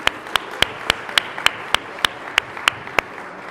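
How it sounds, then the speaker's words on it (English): Applause at the 7th Annual Roberto Clemente Commemoration comes through as sharp, evenly spaced claps in a steady rhythm, each crisp and distinct over a quiet background. "So a big round of applause for them."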